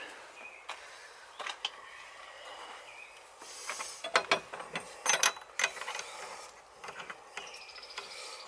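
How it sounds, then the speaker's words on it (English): Wrench working on the threaded fitting of an outdoor shower at a summer cottage, giving scattered close ratcheting clicks and metallic turns in irregular bursts, quiet and alone without talk. "I like this wrench right here."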